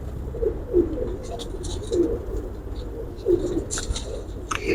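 A Kasuri pigeon cooing up close, repeated low throaty coos in a steady rhythm over faint background hiss and a few soft higher chirps, no talking.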